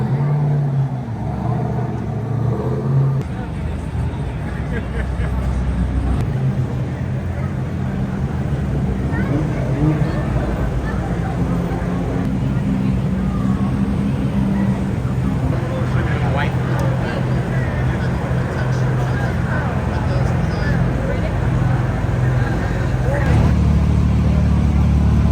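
Cars leave a night car meet one after another, engines droning and revving at a middle distance, a continuous loud motor rumble with people talking over it.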